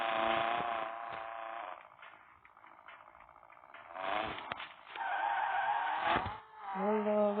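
A race car skids through a video game, tyres squealing in long sweeping bursts over a droning engine that rises and falls, with brief scraping moments, loud and up front with no talking.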